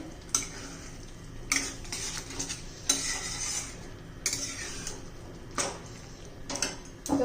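A spoon scrapes and clinks against a cooking pan while capsicum is stirred, with a faint sizzle beneath and several sharp metallic knocks spaced a second or so apart, close by.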